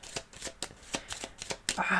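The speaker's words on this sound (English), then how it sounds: "So we are going to shuffle these." Cards for the Aeon's End Legacy board game are shuffled up close, a quick run of crisp riffling bursts in steady rhythm ending in a louder final riffle, with no talking.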